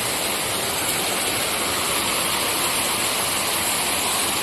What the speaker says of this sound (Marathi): एकदम जोरात चालू झालाय पाऊस